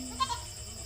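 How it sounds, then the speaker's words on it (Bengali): A goat gives one faint, very brief bleat with a small double pulse, set against quiet background noise. "রায়হানের ছাগল ধলা।"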